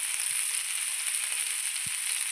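Prawns fry in a hot pan with a steady, even sizzle and hiss throughout, broken by a couple of faint low knocks.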